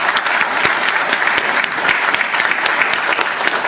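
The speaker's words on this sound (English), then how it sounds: "Please give Philip a round of applause." A burst of steady, dense clapping from an audience at a transportation town hall in Marion, loud and close, continuing for several seconds with no speech.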